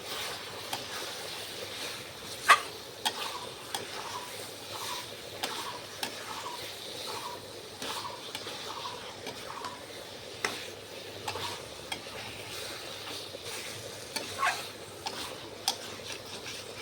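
Meat frying in a pan while being stirred, a steady sizzle with periodic scraping and knocking of the spoon at a fairly regular rhythm, close by.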